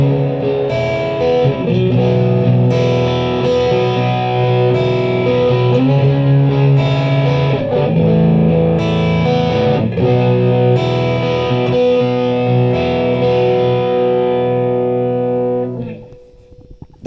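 A distorted electric guitar plays thick, sustained power chords for several bars, loud and steady, then the final chord rings out and fades.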